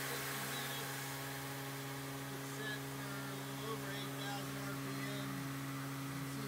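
A 7.25-inch shaft spins at about 8000 RPM, giving a steady, continuous machine whine with strong, stable tonal hum lines throughout and a faint voice speaking under it.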